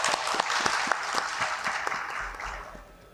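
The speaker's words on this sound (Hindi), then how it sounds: "आपकी भरपूर तालियों में" An audience at the 17th Aalmi Urdu Conference in Karachi claps in a dense, close burst of applause that fades out over about three seconds.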